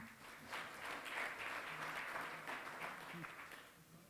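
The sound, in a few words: audience applause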